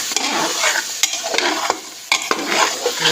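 Potatoes and grated carrot sautéed in a pan with steady sizzling and repeated scraping strokes of a spoon stirring through them, close and fairly loud, with no voices.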